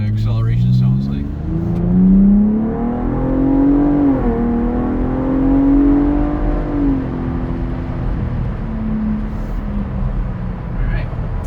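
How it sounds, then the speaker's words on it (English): Ford Bronco Raptor fitted with an MRT H-pipe exhaust accelerating on an open road, a loud, steady engine note that climbs and holds under throttle, with a person speaking over it. "give it some juice, and see what acceleration sounds like."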